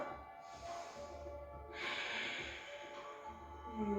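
Breathing held through a yoga bridge pose in a beginner vinyasa class: slow, airy inhales and exhales through the nose, close to the microphone and soft, with a brief snort-like intake and no speech.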